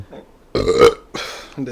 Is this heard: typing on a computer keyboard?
no